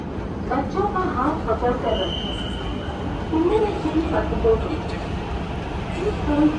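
A train pulls away, its low steady rumble and rolling clatter filling the background while several people talk loudly over it.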